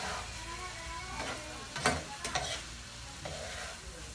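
Egg frying in a pan and being turned gently so it stays in whole pieces, a steady soft sizzle broken by a few sharp scraping stirs near the middle.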